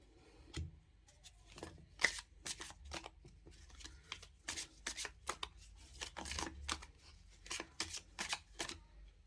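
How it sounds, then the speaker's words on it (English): Tarot cards being shuffled and drawn close to the microphone, a run of crisp riffling bursts and sharp slaps of card on card at an uneven rhythm, quiet and alone with no talk. "Now let's pull out few cards to understand the theme of March."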